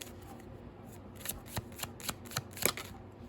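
Oracle and Moonology cards being shuffled and handled during a tarot reading, a short series of crisp, close riffling flicks and snaps in a quiet room, with no talking.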